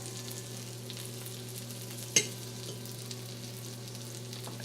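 Mushroom slices dipped in tamari soy sauce and flour frying in a butter mixture, giving a steady, close sizzle throughout with one brief sharp pop partway.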